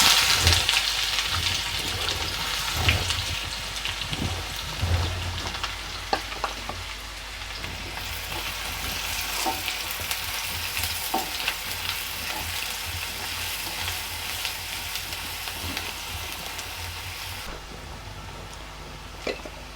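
Mustard seeds, cumin and onion fry in hot oil in a pan, giving a steady close sizzle with occasional popping and stirring clatter, loudest early on.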